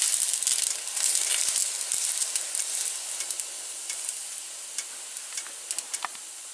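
A folded Crunchwrap Supreme frying folded side down in a pan, a close, bright sizzle that starts loud and dense and then settles into sparser popping crackles, with no one talking.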